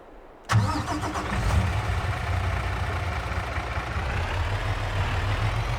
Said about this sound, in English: All right, let's go jump into our new truck.